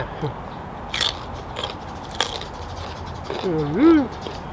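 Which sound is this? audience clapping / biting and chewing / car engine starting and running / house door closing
biting and chewing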